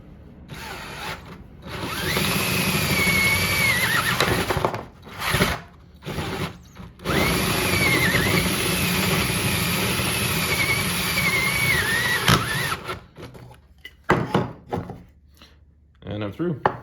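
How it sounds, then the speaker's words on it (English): Power drill boring a hole through 3-inch ABS plastic pipe for a heater element, a loud steady whining drone with a squealing edge that runs in two long bursts, stopping briefly between them, then ends with clatter. "We're going to start by drilling the hole for the element."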